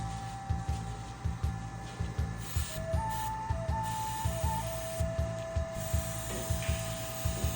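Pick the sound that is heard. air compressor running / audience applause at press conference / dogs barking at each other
air compressor running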